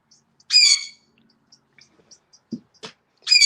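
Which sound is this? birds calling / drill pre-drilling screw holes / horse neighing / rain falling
birds calling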